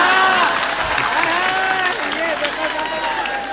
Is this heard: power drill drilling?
no